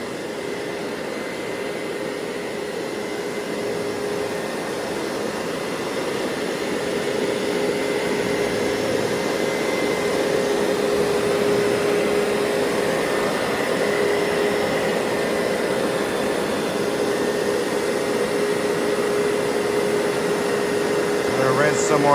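A Hoover SteamVac Silver carpet cleaner runs steadily while extracting liquid from carpet, giving a loud continuous whirring suction drone with a faint steady tone that does not let up.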